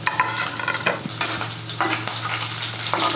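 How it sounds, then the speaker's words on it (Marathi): Green chillies frying in a pan with lightly roasted coconut for a makhana chiwda, giving a steady close sizzle with scraping stir strokes throughout and no talking. "हिरवी मिरची टाकणार आहोत"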